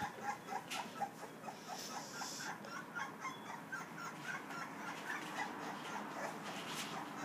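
Young pit bull puppies whimper and squeal in a steady run of short, high, overlapping cries, fairly close and quiet, with no talking.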